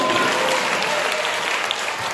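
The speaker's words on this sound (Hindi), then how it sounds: "एक बार जोरदार तालियां बजाइए इनके लिए।" A crowd applauds a team at a taluka-level school quiz competition in Bhadgaon, steady dense clapping filling the hall without a break, no speech over it.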